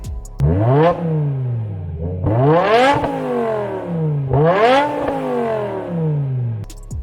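A BMW E60 M5 with its 500-horsepower V10 and manual gearbox revs hard and close, climbing sharply through three long pulls with brief drops between them, loud and alone.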